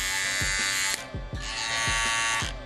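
A silver Slimline Pro Li cordless hair trimmer runs close up with a steady high-pitched electric buzz, its motor pitch dipping and rising briefly several times as it works, with no talking.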